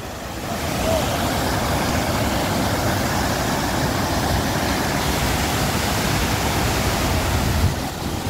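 Rushing, gurgling mountain water at Saach Pass, a steady broadband roar that fills the scene close and loud from start to finish with no voices.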